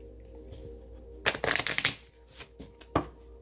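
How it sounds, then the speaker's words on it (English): Homemade oracle cards shuffled by hand in a quiet room: a dense riffling burst of papery flutter lasting under a second, then a few lighter card taps and one more sharp snap, with no talking. "I'm going to shuffle uno mas."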